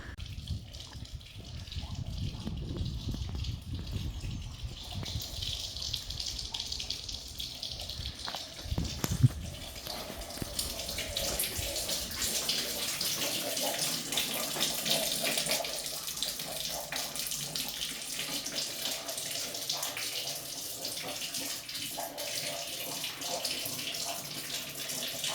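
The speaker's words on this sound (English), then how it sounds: "I could actually hear the water." Continuous rushing spring water, a steady gushing flow close by with no voices, holding at an even level throughout.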